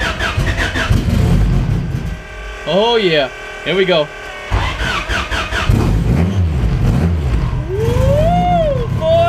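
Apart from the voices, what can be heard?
car engine with Skunk2 Pro1 cams starting and revving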